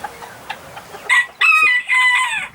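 A rooster crows loudly and close by in a few drawn-out bursts, after some faint clucks and ticks.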